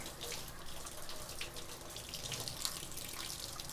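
A knife rinsed under a running kitchen tap, a steady, fairly faint stream of water splashing in a sink with small clinks, no talking.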